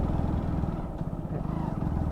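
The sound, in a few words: motorcycle riding on road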